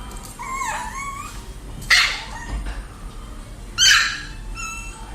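A Chihuahua, a small handbag-sized dog, yips and whines in high-pitched bursts, with two sharp barks standing out clearly above a quiet background.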